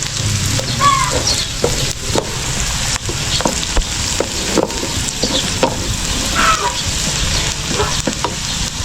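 Butter melting with garlic and onion frying in a pan, a steady close sizzle with occasional stirring scrapes throughout.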